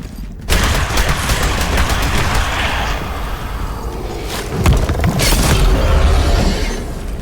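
Hell Cannon weapon in the video game Hellpoint firing a rapid stream of gory globs, a dense, loud, sustained barrage of wet bursts and booms with no talk over it.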